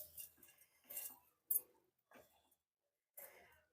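A spoon mixes fish curry ingredients with oil and curry leaves in a pan, making a few separate scraping clinks in short bursts with quiet gaps between them.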